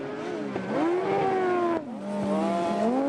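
A speedway bike engine held at wide open throttle on an arena track, a loud, harsh, buzzing howl that rises and dips in pitch as the bike drives through the turns.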